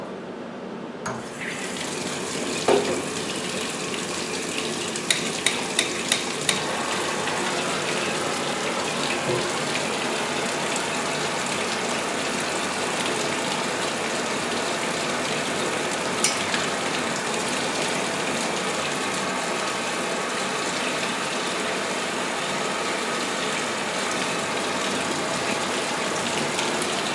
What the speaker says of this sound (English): You probably won't be able to hear me talk because I'm going to have the water on.